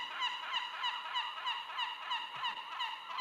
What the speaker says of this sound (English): So a medium swarm of seagulls attacks.